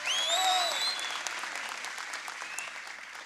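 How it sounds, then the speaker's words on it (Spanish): A studio audience at a Halloween comedy show applauds, dense clapping that slowly thins and fades, with a high whistle-like tone at the start and faint voices underneath. "El aplauso para el espantapájaros."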